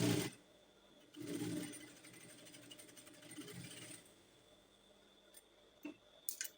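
A sewing machine stitches a curved trouser pocket, its rapid needle clatter running in steady bursts between pauses, close and clear with no talk.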